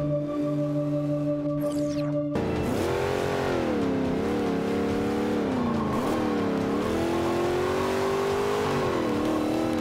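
An old school Chevy rumbles steadily nearby, its engine rising and falling in pitch as it revs and pulls while driving, after a short steady idle hum at the start.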